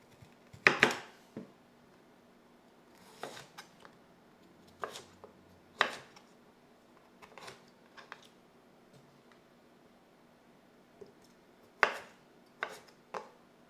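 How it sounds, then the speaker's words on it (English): A knife chopping tender edible plant stems on a board during bulk food prep, a series of sharp, distinct taps spaced irregularly with quiet pauses between, some in quick doubles, close and clear. "So I just cut them up and mix them in there."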